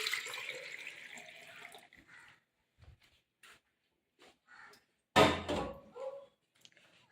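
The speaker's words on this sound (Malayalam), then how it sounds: "വെള്ളം ഒഴിച്ചു കൊടുക്കാം." Water poured into a bowl of decorative pebbles for an indoor plant arrangement, a short close splash and trickle that stops, followed by scattered light clinks and a second brief burst of pouring.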